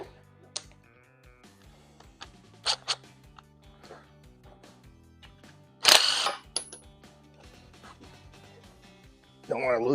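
A wrench works bolts loose on an automatic transmission sleeve, giving a series of quick ratcheting clicks and metallic zips at close range, with louder bursts of ratcheting, while a person talks through it.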